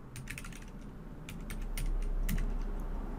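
Key taps on a computer keyboard as a password is entered to remove a Windows 10 login, a short burst of close, irregular clicks, with a few quieter taps between, over a faint room hum.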